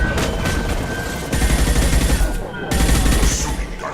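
Gunfire from the sci-fi shooter Mass Effect 2, loud rapid bursts of shots in two volleys separated by a brief lull, set against dense combat noise.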